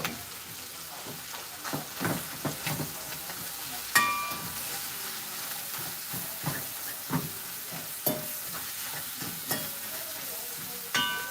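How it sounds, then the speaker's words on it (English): Ground meat frying in a pan for cornbread stuffing, broken up with a fork: steady close sizzle under repeated scraping and tapping strokes against the pan, with no talk. "I am going to switch to breaking this up with my fork. I feel like it does a better job at breaking up meat when I'm cooking it."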